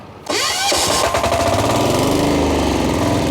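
A Motor Sich walk-behind tractor engine is cranked by its electric starter, catches within a second and settles into a loud, close, steady chugging idle, heard alone.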